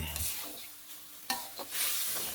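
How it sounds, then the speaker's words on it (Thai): Striped catfish, including fatty belly pieces, stir-fried gently in a pan with a splash of water for a dry-chili dish, giving a steady close sizzle with scraping stir strokes and one sharp clack midway. "ผัดเบาๆครับ ผัดไปให้สุกให้หมดเลย"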